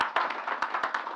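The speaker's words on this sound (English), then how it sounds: "I think they deserve a round of applause." Audience at a corporate rights issue presentation claps, a thin, sparse round of applause with a few sharp, distinct hand claps standing out over a softer patter, fairly close.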